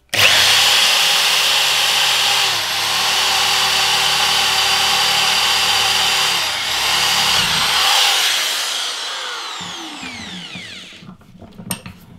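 A Doliz BA670 impact drill whines steadily as it bores into hard wood with a bit, loud and close, with brief dips in pitch before the motor winds down near the end.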